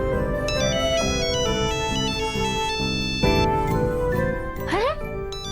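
A phone ringtone plays a bright, chiming melody of repeated tinkling tones, loud and close, running steadily with a short rising sweep near the end, and no one speaks over it.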